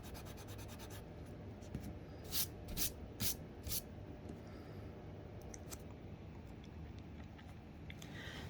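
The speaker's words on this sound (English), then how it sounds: "Just scrape them up and erase them." A razor blade scrapes ink spots off paper in a short run of quiet, dry scratching strokes, a few slightly louder scrapes clustered near the middle against a faint background.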